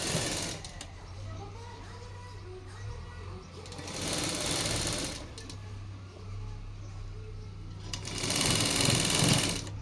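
A sewing machine stitches a long frock, its rapid mechanical chatter running steadily close by and surging in louder runs, with a faint hum beneath and no clear talk.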